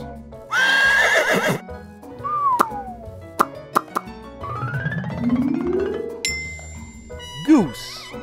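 A cartoon horse whinnies loudly near the start, followed by playful plops, dings and sliding sound effects over light music.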